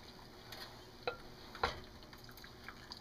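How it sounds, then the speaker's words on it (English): Fresh cherries being gently folded from underneath into a thick pie-filling sauce, with a few wet squelches and soft clicks of the spoon over a quiet background, close and faint. "You don't want to stir your cherries into a mush, so just kind of from underneath"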